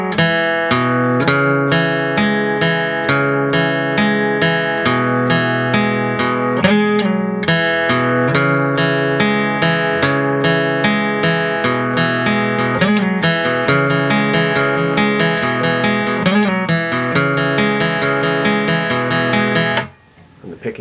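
Steady acoustic guitar picking pattern, bright repeated plucked notes in a driving rhythm, close and loud, ending abruptly.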